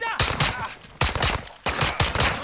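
Three sharp, loud gunshots from Call of Duty Modern Warfare 2, spaced roughly a second apart, fire up close, each with a short ringing tail, during a Realism-difficulty campaign mission near a border wall.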